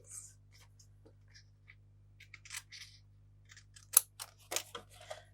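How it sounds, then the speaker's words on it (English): Scissors trim small bits of paper for a scrapbook page in a run of crisp, close snips, quiet at first and then sharper and quicker, over a faint low hum. "Let's trim these bits."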